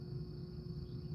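Crickets chirping at night in a steady, faint, continuous trill with no other sounds.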